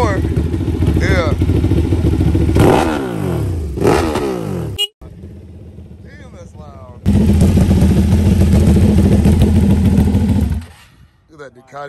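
Ducati V2 superbike at a superbike meet revving loudly nearby in repeated sharp bursts, dropping off briefly before a long sustained high rev, with people talking over it.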